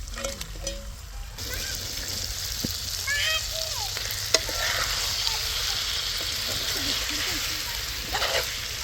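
A kilo of washed raw chicken going into a hot pan of cooked-down onions and tomatoes, a loud dense sizzle rising and holding steady, with stirring scrapes and some talk underneath.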